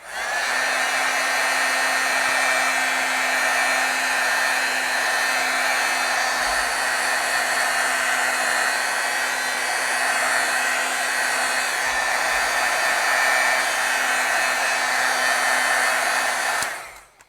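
A heat tool blows steadily and loudly for about seventeen seconds, heat-setting an embossed foil stamp; a continuous close whooshing roar with no pauses or talk.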